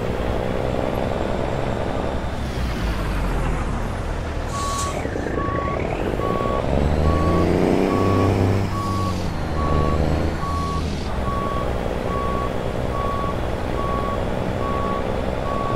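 A truck in American Truck Simulator backs up with a steady, evenly spaced reversing beep running the whole time over a loud, constant engine drone that rises and falls slightly as it maneuvers.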